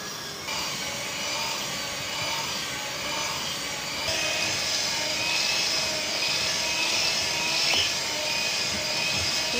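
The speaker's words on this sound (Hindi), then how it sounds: "8 से 10 मिनट इसको हम बीट करेंगे, जब ये डबल से भी ज़्यादा हो जाए वॉल्यूम इसका।" An electric hand beater whips an ice cream mixture at high speed, giving a steady, loud motor whine that runs continuously with no talking.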